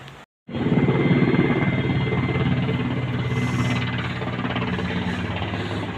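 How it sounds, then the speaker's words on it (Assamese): An army helicopter roars close by over Tawang market in Arunachal Pradesh, its steady rotor thrum and engine drone filling the scene, loud and continuous after a brief drop at the start. "আৰ্মি হেলিকপ্টাৰ ইমান ওচৰতে গৈ আছে"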